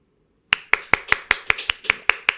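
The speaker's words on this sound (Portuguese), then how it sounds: "Eu adoro os aplausos aqui, né, da equipe, dos bastidores" A small backstage team claps in a quick, even rhythm, about a dozen crisp, close claps after a short silence, with no talk.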